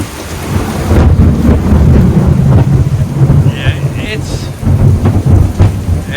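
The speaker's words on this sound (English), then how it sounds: "Oh, there's another lightning." Thunder from a lightning storm at sea rolls and rumbles loudly around a sailboat, steady heavy rain drumming on surfaces throughout the deep, sustained roar.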